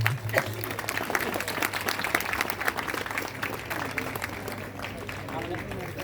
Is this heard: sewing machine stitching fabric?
no